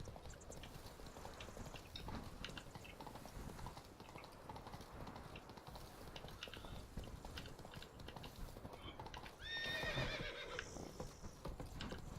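Horse galloping in The Witcher 3 video game, a steady rapid patter of hooves throughout with a brief whinny near the end, all fairly faint and with no talking.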